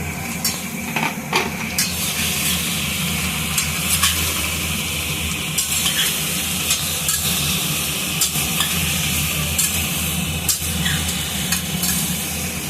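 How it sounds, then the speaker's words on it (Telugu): Ridge gourd curry fries and sizzles steadily in a pan while a utensil stirs it, giving a continuous close hiss with frequent scraping clinks throughout and no talking. "ఇప్పుడు అన్నీ వేసాక మీరు కలుపుతూ ఉండండి."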